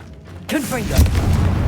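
A Confringo fire spell from Hogwarts Legacy goes off with a booming burst, layered under a caster's shouted incantation and a sweeping whoosh. It stays loud for the last second.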